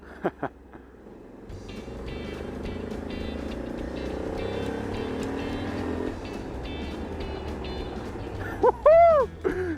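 Honda Africa Twin DCT motorcycle ridden off-road, its engine a steady rumbling drone throughout with a louder surge near the end, the rider not speaking.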